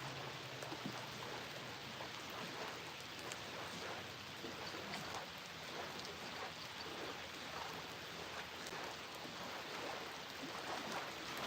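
Steady rain falls on the Wisconsin River at a fishing spot, a dense, even hiss of drops on water that lasts throughout at moderate distance, with no voices.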